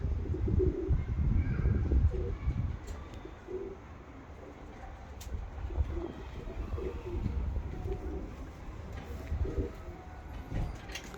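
Tumbler pigeons coo at a windy loft while the flock flies high overhead, a low rumbling murmur with occasional wingbeat flutters, steady and fairly close, with no talk.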